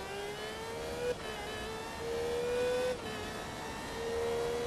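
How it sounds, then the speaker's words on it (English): A race car engine in Forza Motorsport 2 at the Sebring Grand Prix hums at high revs with steady whine and brief dips at gear shifts, continuous and moderately loud, no talk. "This engine's really nice, actually."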